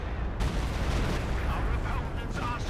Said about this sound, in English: Oh, we do have the 20cm rocket barrage.